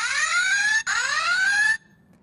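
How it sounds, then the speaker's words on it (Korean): A standalone smoke-detector fire alarm sounds in a home, giving two loud, close, piercing rising beeps with a brief gap between them, then cutting off. "이렇게 경보음이 울려 주민들에게 화재 발생 사실을 알려주게 됩니다."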